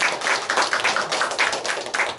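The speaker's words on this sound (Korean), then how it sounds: "그럼 다 같이 박수로 환영하겠습니다." A church congregation claps to welcome a visiting professor, a brief run of scattered, fairly quiet hand claps with no one talking over it.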